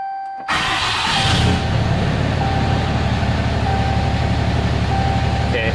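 A tuned truck engine, just reflashed, cranks and fires up after about half a second, then settles into a steady, loud idle that runs close by for the rest of the clip with no talking.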